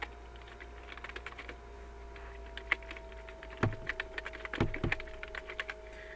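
Typing on a computer keyboard: bursts of quick, close key clicks with a few heavier thumps, over a faint steady electrical hum, with no one speaking.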